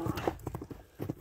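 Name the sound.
horse hooves clip-clop while galloping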